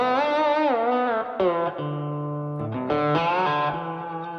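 Electric guitar notes and chords ringing out with a long, washy reverb tail, sustained tones blending into each other, played alone at moderate volume.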